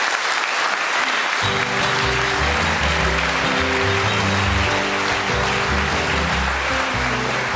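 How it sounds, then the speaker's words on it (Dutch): A studio audience applauds the jury of a Frisian television talent show: dense, steady clapping that starts faint and swells loud after the first second and a half, continuing under music for the rest of the span. "Maak een applaus voor Steven Sterk, Raymond de Jong en Saskia Bak."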